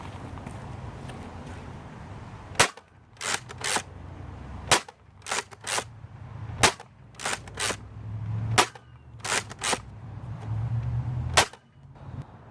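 Nerf Tactical Twinshock blaster firing Mega Darts, about a dozen sharp pops in irregular pairs and singles over low background rumble, close and loud.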